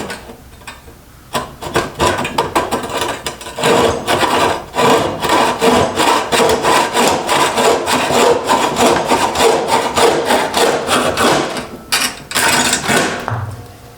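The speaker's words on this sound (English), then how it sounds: "The test of the newly sharpened bucksaw." A freshly sharpened bucksaw cuts through a piece of wood in steady, loud back-and-forth strokes, a rhythmic rasping of about a dozen passes close by, with no talking.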